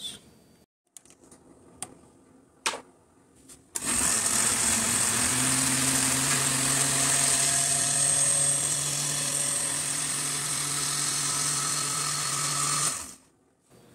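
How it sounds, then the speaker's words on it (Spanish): Electric blender whirring steadily for about nine seconds as it purées a banana pie filling with vanilla, a loud continuous motor drone with a sharp start and stop, preceded by a few clicks and clatters. "esto lo vamos a licuar"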